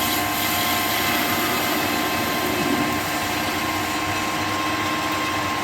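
A lathe facing off an exhaust boss for a Harley Shovelhead cafe racer, a steady dense machine hum with a faint whine, constant and close, with no talking.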